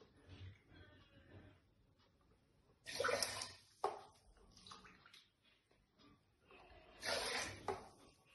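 Water poured into a pot of raw rice and urad dal while preparing South Indian ulundhu sadham, with several short splashing, gurgling bursts separated by quiet pauses, close and fairly soft.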